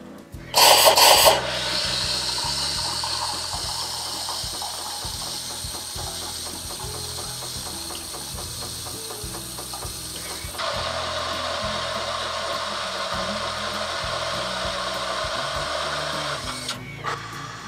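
Miele CM 7500 espresso machine making a macchiato: a brief loud hiss, then a long steady mechanical whirring and pumping drone that shifts pitch midway before cutting off near the end.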